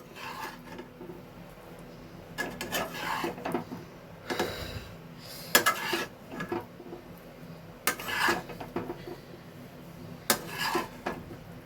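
Spiced potato dum is stirred in a pan, giving irregular bursts of scraping and clinking of a spoon against metal between quieter pauses, close and unaccompanied by speech.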